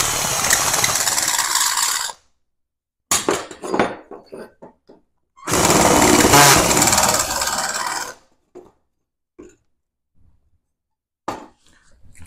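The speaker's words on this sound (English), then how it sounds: "To get rid of the burr, I'm just gonna use a countersink." A countersink bit deburring a freshly cut hole in thin metal while building MIG gun holders, heard as two long, loud, harsh rasping bursts separated by short clicks and scrapes, then sparse small taps.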